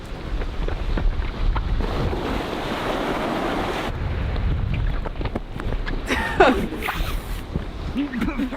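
Surf washes steadily onto a beach with wind buffeting the microphone, a continuous roar of breaking waves under occasional people talking and rustling close by.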